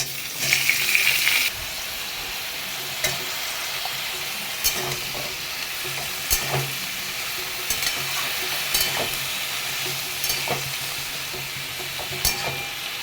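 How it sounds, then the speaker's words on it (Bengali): Mixed vegetables fry in a pan with no spices yet, a steady broadband sizzle running throughout, louder and busier in the first second and a half, with occasional stirring clacks and scrapes. "খালি তরকারিটাকে ভেজে সিদ্ধ করবো আগে"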